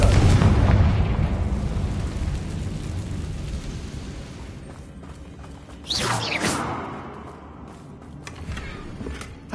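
A Confringo fire spell explodes in Hogwarts Legacy on PS5 with a loud, roaring blast that slowly fades, followed by a second crackling burst and whooshes.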